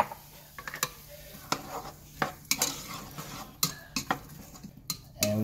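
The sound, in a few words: onions sauteing in oil in a pot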